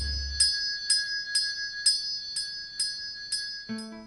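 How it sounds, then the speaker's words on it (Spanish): A bell hangs on a bedroom door and rings in a steady series of about eight bright, jingling strikes roughly every half second, each fading quickly, followed by a short different tone at the end. "Colgamos una campana en la puerta de su dormitorio para que nadie pudiese entrar sin que se enterase."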